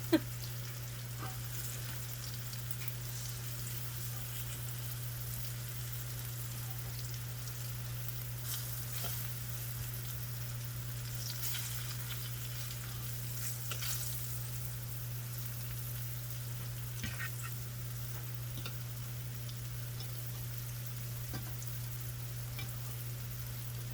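Cauliflower steaks fry in oil with a steady, even sizzle that runs the whole time, with faint crackles and pops on top and a low constant hum beneath.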